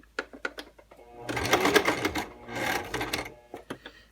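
Sewing machine stitching in the ditch of a skirt waistband runs in two steady whirring bursts, close and moderately loud, framed by short clicks and taps of handling.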